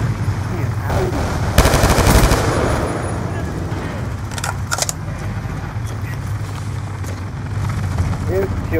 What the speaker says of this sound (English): the sentry gun was shooting you